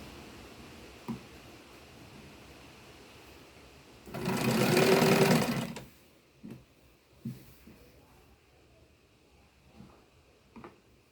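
A sewing machine stitches the sleeve and side seam of a raglan baby garment, one steady whirring run of about two seconds amid quiet room tone and faint handling clicks.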